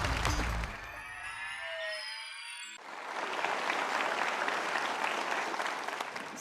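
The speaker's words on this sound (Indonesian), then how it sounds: "Kita kasih tepuk tangan untuk Mas Pri." After a brief electronic sweep, an audience breaks into sustained applause for Mas Pri, a broad even wash of clapping from a hall that continues to the end.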